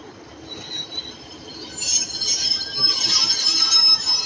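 Class 323 electric train, ex-West Midlands Trains, passing on the line from Manchester Piccadilly to Stoke-on-Trent, with a steady rolling rumble and high wheel squeals that build louder toward the end.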